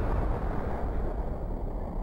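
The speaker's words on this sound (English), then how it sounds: "It sounded like an explosion." In Skies of Arcadia Legends, an explosion strikes an airship's hull, a loud, deep rumbling blast that roars and slowly decays over two seconds, with no talk over it.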